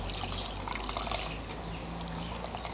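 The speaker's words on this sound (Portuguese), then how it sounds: "peguei uma esponjinha, vou misturar aqui bem misturadinha" Detergent water is swished and stirred with a sponge in a container for orchid care, a close, continuous wet sloshing and trickling with no talking.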